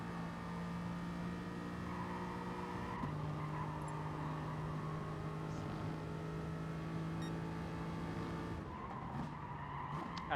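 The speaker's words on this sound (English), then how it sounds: "Sounds like you're playing Gran Turismo Sport." A race car engine in the Gran Turismo Sport racing game holds a steady droning tone with gear shifts and brief tire squeal, playing alone at a moderate level without talk.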